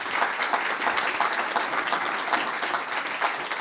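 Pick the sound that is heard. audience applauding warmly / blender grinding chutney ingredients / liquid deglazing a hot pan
audience applauding warmly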